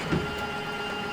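A steady mechanical drone as the slide-out mechanism of a 2020 Grand Design Reflection RV retracts, a continuous close motor hum with no talk.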